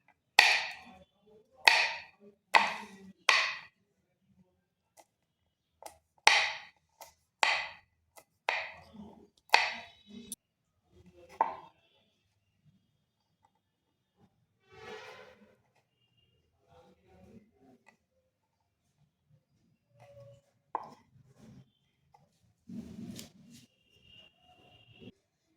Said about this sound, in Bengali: এখানে আমি নিয়েছি কিছু কাজু আর কিছু কিশমিশ। এরপর এগুলোকে টুকরো টুকরো করে কেটে নেব।